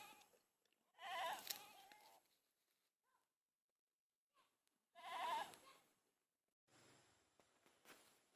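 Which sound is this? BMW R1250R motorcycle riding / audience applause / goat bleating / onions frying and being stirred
goat bleating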